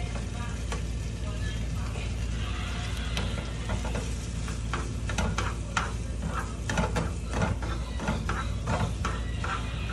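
Eggs sizzle steadily in a hot pan, a continuous close crackle broken by irregular scraping clicks and taps as a child stirs them with a utensil.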